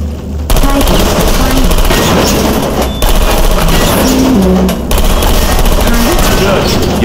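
Automated turrets in the video game Portal Stories: Mel firing in rapid, continuous bursts, a loud dense rattle of gunfire that carries on almost without a break, layered with game tones and effects.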